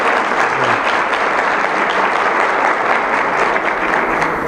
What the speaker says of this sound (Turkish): Bu kadar hanımdan bu alkışı almak gerçekten ya, gurur verici.